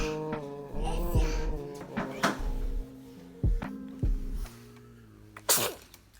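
A sharp sneeze bursts out near the end, after a few short clattering knocks and faint voices in a room.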